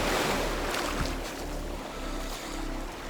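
Sea surf washes steadily around someone wading into cold seawater, a broad, constant roar of waves mixed with wind buffeting the microphone, close and loud throughout with no voices.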